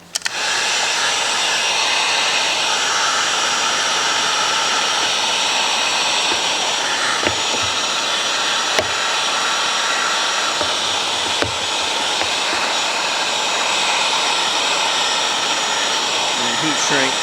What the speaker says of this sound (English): I'll take my heat gun and I'll do some shrinking on this end of it.